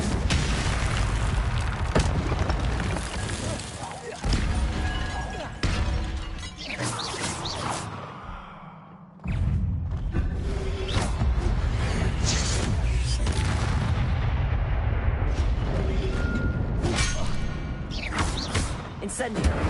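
Fire spells cast in Hogwarts Legacy burst out again and again as loud crashing booms and shattering blasts, with game music and chatter running underneath and a short dip into quiet near the middle.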